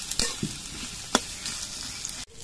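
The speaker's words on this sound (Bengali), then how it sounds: "পেঁয়াজগুলো আমি কিছুক্ষণ ভেজে নেব, একটু লালচে রং করে পেঁয়াজগুলোকে ভেজে নেব।" Onions fry in a pan for a Bengali murighonto, giving a steady soft sizzle with a few sharp stirring clicks and scrapes, then an abrupt cut.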